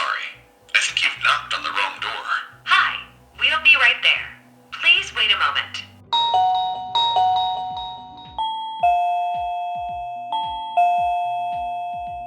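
A Reolink 2K smart video doorbell speaker sounds a ringing chime of sustained bell tones after someone talks at length, the tones ringing out clearly and on their own.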